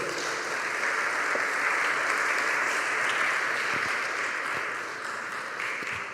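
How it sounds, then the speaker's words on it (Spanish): A church congregation gives a long applause during worship, a dense, continuous clapping that swells, holds steady for several seconds, then eases slightly toward the end. "un aplauso largo, así todos"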